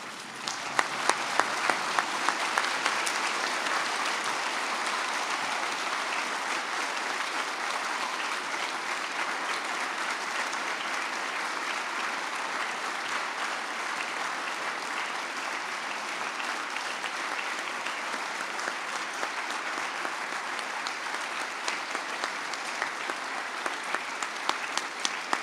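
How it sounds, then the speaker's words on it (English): Students and staff at a high school Veterans Day assembly, on their feet, give a sustained round of applause for veterans, a dense, steady wash of clapping from a large crowd that holds evenly for the whole stretch with a few sharper claps near the start and end. "please give these veterans one more round of applause"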